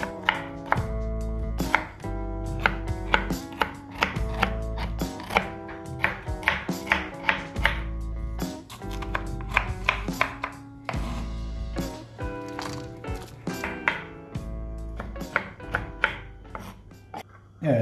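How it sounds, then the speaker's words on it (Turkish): Steady knife chopping of lamb tail fat on a cutting board, rapid rhythmic thuds in bursts with brief pauses, close and clear with no talking. "Buna bol kuyruk yağı doğrayacağız."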